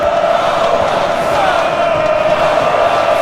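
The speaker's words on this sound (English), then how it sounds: "This crowd still backing their team here." A basketball arena crowd in a simulated game roars steadily, a dense, loud wash of cheering and yelling that holds throughout.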